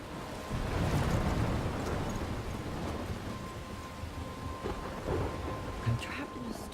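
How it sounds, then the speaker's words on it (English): A thunderstorm in the video game Life is Strange: steady heavy rain and low rumbling thunder fill the scene continuously, with a few louder cracks and swells throughout. "I'm trapped in a storm?"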